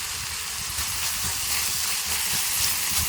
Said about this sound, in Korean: 고기가 익으면 양파 1개, 양배추 작은 거 반개를 넣고 또 볶아줍니다.